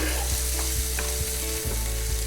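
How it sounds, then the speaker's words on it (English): Green pepper fries in olive oil in a paella pan with a loud, dense sizzle. A few soft thuds and scrapes of stirring break it every half second or so, and no one speaks. "Chop and add the green pepper. We have to fry it very well, about 10 minutes until it's soft and toasted."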